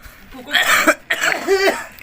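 A person coughs twice in quick, loud, close bursts, with a brief throat-clearing quality and no speech between them.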